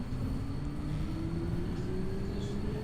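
A tram runs in City Transport Simulator, its motor whine climbing slowly in pitch over a steady low rolling rumble, close and continuous with no talk.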